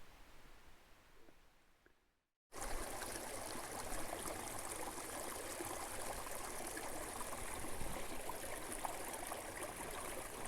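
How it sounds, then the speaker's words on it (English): A mountain stream gushing from a spring about 100 feet up a hillside, a steady broadband rush of flowing water that starts abruptly after a brief quiet moment and continues loud and close. "this stream pops out of the ground from a spring about 100 feet up the hill"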